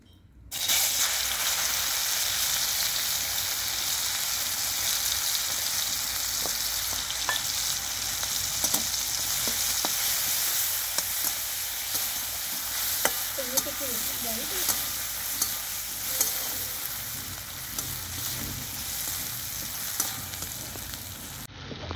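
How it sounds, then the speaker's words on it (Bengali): Crushed garlic hits hot oil in a pan and sizzles loudly and steadily, a continuous bright frying hiss with small pops and the occasional stir, no talking over it. "এবার থেতো করে রাখা রসুন এর মধ্যে দেওয়া হবে।"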